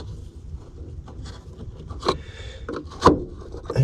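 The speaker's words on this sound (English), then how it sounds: "What it looks like you do is pry off this protective cap here." A protective cap is pried off a shock absorber mount on a 1972 Mercedes-Benz 280SE 4.5 (W108), with close scraping and rubbing and two sharp cracking pops as it gives way.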